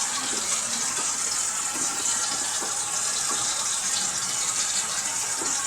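A kitchen sink faucet runs strongly after the drain has been unclogged, a loud, close, continuous gush of water with no voices.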